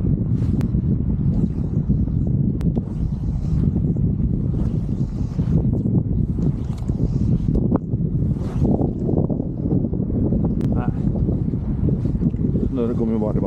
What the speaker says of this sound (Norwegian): det blåser ganske godt nå, altså.